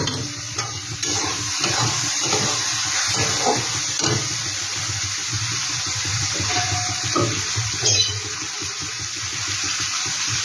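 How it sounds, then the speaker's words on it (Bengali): A little water is poured into a pan of spiced coconut chicken masala, making a continuous splashing, sizzling wash of sound close by, with clatter of utensils. "একটু জল দিয়ে দিলাম"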